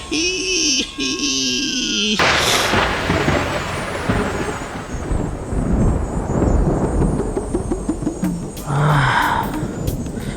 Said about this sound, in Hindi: बिजली कड़की है।